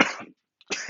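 A person coughs in two close, harsh bursts separated by a short silence, near and fairly loud, in a dramatic retelling of Tanjiro finding his family dead.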